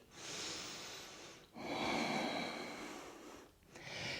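Slow, deep breaths during a yoga flow, a long audible inhale followed by a fuller exhale and the start of another, close and steady with no talk.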